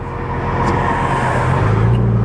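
A Nissan GT-R with a straight pipe exhaust pulls hard under acceleration, giving a loud, steady, close engine drone that climbs slightly in pitch. No one speaks.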